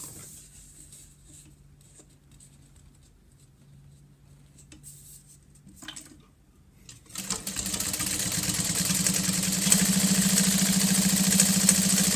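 A sewing machine top stitches around a handbag. It starts with a quiet low hum, then after a short pause runs as a loud, steady close whirr to the end.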